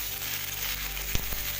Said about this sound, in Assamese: এতিয়া ইয়াত ধনিয়া গুড়ি 1 চামুচ দিছোঁ। সেইখিনিও ইয়াত অকণমান সময় ভাজি ল'ম।